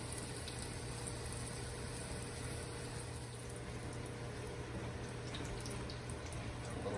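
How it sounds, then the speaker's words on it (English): Lion's mane mushroom slices sizzle in melted butter and garlic, a faint, steady hiss and crackle with soft low hum underneath, continuous and even throughout. "Now I'm going to place that in melted butter and garlic. And we'll saute that up."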